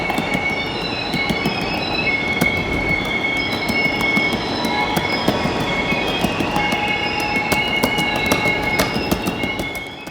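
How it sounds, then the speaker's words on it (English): A heavy loaded coal train rolls steadily past close by, its railcar wheels squealing in sharp high tones over a continuous rumbling clatter that stays loud for the whole stretch. "this train is a loaded coal train, a very lucrative but very heavy move on the railroad"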